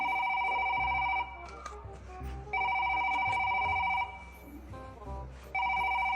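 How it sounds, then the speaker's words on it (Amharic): A phone rings in repeated electronic bursts, each lasting about a second and a half with short gaps between, close and clear while people speak quietly in the pauses. "ቦስ ስልክሽ እየጠራ ነው"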